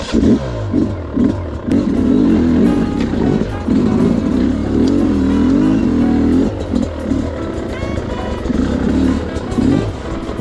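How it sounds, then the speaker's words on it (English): A 2025 Sherco SE300 Factory two-stroke dirt bike engine coughs to life and revs loudly up close, its rough throbbing rising and falling in uneven bursts with clattering underneath. "Can somebody please teach me how to start a two-stroke?"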